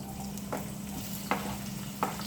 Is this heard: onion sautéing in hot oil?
yes